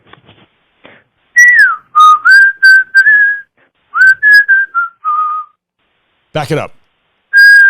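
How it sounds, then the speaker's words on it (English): A person whistles a tune in clear, loud, close phrases of sustained and sliding notes with short pauses, and a voice briefly speaks partway through. "So I'm going to whistle a little something"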